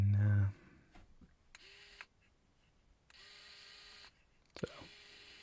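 A SHARDEN mini electric screwdriver whirs in short separate runs, tightening and then loosening, with a small motor hum close by and quiet between runs.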